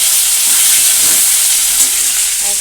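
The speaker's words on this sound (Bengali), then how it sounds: "মাংসের জন্য আলু ভাজা হচ্ছে।" Potatoes frying in a pan for a mutton dish, giving a loud, close, bright sizzling hiss that stays steady for a few seconds without speech.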